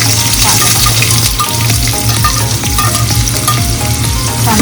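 Onion frying over medium heat in oil with browned garlic and curry leaves for Malvani prawn curry, a loud continuous sizzle with crackling pops and occasional scraping stirs, close by.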